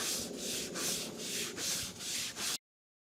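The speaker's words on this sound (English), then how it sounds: "we are scrubbing it a bit just to help the solution work" A brush scrubs a sap-stained wooden deck coated with outdoor cleaner solution. About seven close, rhythmic back-and-forth strokes rasp on the boards before stopping abruptly.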